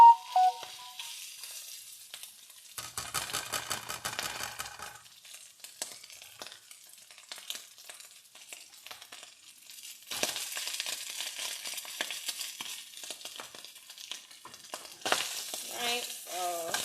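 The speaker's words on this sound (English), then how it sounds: "so got my rice frying in there with the sausage." Rice and sausage fry in a hot pan for shrimp fried rice, a steady close sizzle with bursts of stirring scrapes and crackle, louder at the start and again near the end.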